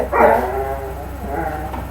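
Several dogs bark and yip close by in a short, excited burst, with a loud yelp at the start and quieter barking that continues under a voice.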